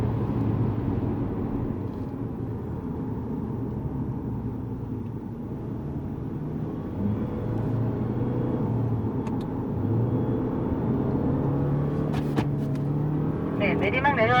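A Lexus GS200t laps Yongin Speedway, its steady engine drone and road noise filling the cabin at a constant level, with an instructor's voice talking over it throughout.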